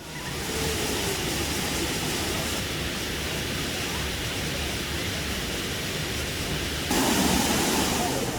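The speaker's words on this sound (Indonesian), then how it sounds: "Deburan air terjun mengalir begitu derasnya, bagaikan keran air alam." Waterfall pouring heavily into a large bowl-shaped pool at Pagar Alam, a steady broadband rushing roar that fills the whole span, loud and constant, swelling a little near the end.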